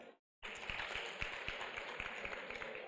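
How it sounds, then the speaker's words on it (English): Audience applause for the debaters at a youth leadership debate quarter final, a steady dense wash of clapping that starts abruptly after a brief silence and holds at even loudness, with a few sharper individual claps standing out. "another round of applause for our debaters"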